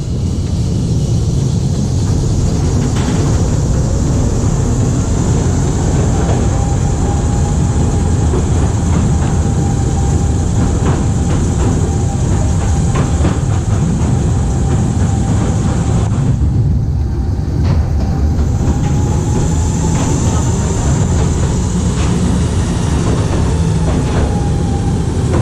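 A small London Post Office underground mail railway train runs continuously with a loud, steady rumble and rattling wheels, close by throughout with no talking.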